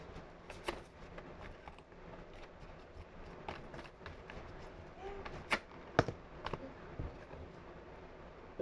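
Soft, faint tarot card handling: light riffles and scattered taps and flicks of cards being shuffled, with a couple of sharper snaps near the end.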